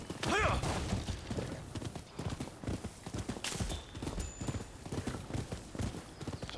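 Horse hooves clip-clop steadily through the Rise of the Ronin video game, a continuous rhythmic trot of moderate loudness under game ambience.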